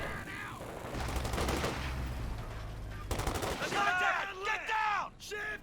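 Thompson submachine gun bursts in a Company of Heroes 2 match, rapid crackling volleys in two stretches amid other battlefield gunfire, with whooshing and whistling effects near the end.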